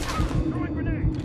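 Gunfire in Call of Duty Modern Warfare 3 multiplayer, dense rapid shots and booming impacts in a continuous loud barrage with voices mixed in.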